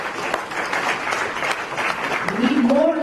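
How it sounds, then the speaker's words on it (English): Audience applause at a felicitation ceremony where a governor presents a certificate and memento, a broad steady wash of clapping lasting a few seconds with a voice rising over the end. "We need more resounding applause and appreciation."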